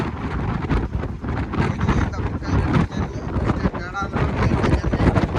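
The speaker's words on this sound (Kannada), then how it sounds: "ಬಿಸಿ ಗಾಳಿ ಬೇರೆ ಬರ್ತಾ ಇದೆ." Strong hot wind on an expressway buffets the microphone in loud, gusty roars while a voice talks underneath the rushing noise.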